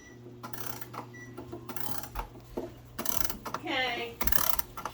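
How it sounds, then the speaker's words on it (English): Key winding of a 1727 English grandfather clock: close ratcheting clicks in short bursts from the winding mechanism, with a steady low hum underneath and brief faint voices in the background. "So you turn it with the little key, but here we'll just wind it."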